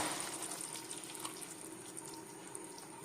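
Coconut milk pours in a continuous liquid stream into a cooking pot, close and steady throughout with no voices.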